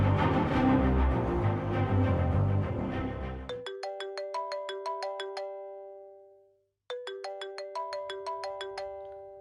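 A mobile phone ringtone plays in a room, a bright repeating melodic chime that follows a burst of louder background sound, pauses briefly, then starts again, with no talking.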